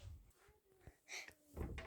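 A door in a Turkish horror video game rattling and thudding as it fails to open, a few faint knocks and clunks with low rumbling room tone, quiet overall.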